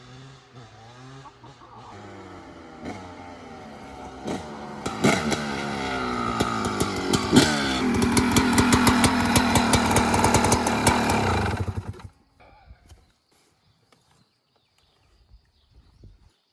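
A restored 1995 Yamaha WR 250 motorcycle engine starts up rough and sputtering, then revs hard in repeated loud bursts before cutting off abruptly into near silence.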